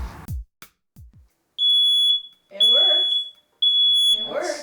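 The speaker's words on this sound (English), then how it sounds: "what a smoke detector sounds like" A smoke alarm sounds in loud, piercing, high-pitched beeps, three long bursts with pauses, while people talk nearby.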